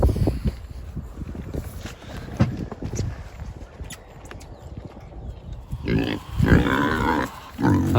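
Meat pigs and piglets grunting and snuffling nearby in short irregular bursts, with louder rustling, shuffling noises toward the end.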